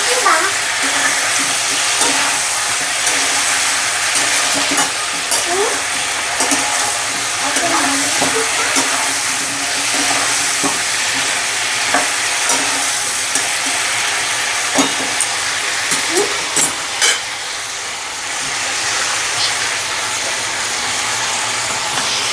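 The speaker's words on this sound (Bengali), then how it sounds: "এর মধ্যে গোটা আলুগুলো দিয়ে দেবো, দিয়ে হালকা করে নাড়াচাড়া করে নেবো।" Whole potatoes stirred into chicken frying in a pan, giving a steady, dense sizzle with scattered scraping and clinking of a utensil, loud and continuous throughout with no talking.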